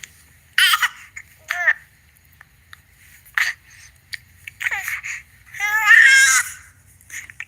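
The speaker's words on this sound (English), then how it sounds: "So number 3 is crying and screaming." A reborn baby doll letting out infant crying and screaming in separate wailing bursts, loud and near, with one long rising scream near the end and quiet gaps between.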